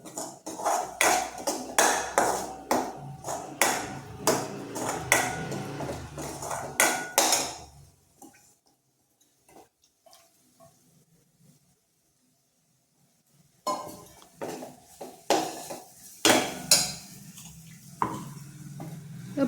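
A spoon stirs ground masala paste in hot oil for an egg curry, making rapid, close clatters and scrapes against the pan. The stirring stops for several seconds of near silence, then resumes just as busily.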